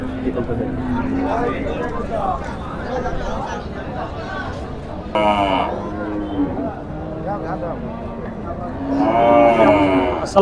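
Several cattle, including bulls, moo loudly in long, drawn-out calls, one after another, over a busy crowd murmuring and talking nearby at a cattle market.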